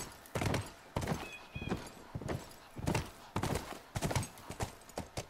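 Horse hooves from the video game The Last of Us Remastered clip-clop in a steady walking rhythm, close and clear, with a brief whinny early on.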